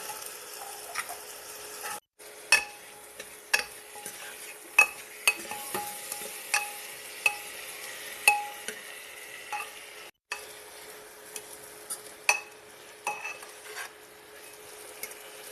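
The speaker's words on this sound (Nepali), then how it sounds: "अब यसलाई एकछिन भुट्ने।" Chickpeas fry in a pan on a gas stove, with a soft continuous sizzle punctuated by regular sharp clacks of a spoon stirring against the pan, about one every second, with no talking.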